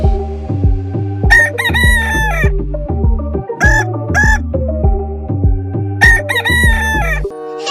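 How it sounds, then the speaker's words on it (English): A rooster crows loudly several times in a bright, tuneful cartoon style, its calls layered over a bouncy tonal backing with clucking bursts, no talking. "Collecting this rooster here"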